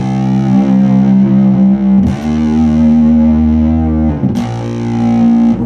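Electric guitar played through a Nordstrand/Rocket Surgeon Seratone fuzz pedal, sustaining long saturated notes that hold thick and steady, with two fresh attacks around two and four seconds; loud and close, no talking.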